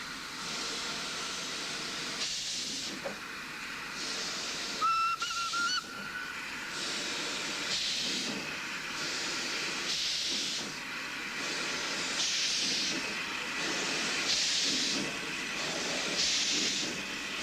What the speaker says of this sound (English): In beautiful early morning light, an arrival from Nawabshah hauled by an SP class.